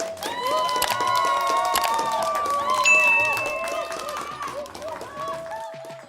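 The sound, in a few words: clapping applause sound effect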